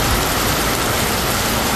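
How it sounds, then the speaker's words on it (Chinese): Water pump motor pumping floodwater out of a flooded school during heavy rain, a loud continuous hum with broadband rushing noise, steady and close with no talk. "我启动那个抽水马达，把水抽到校外。"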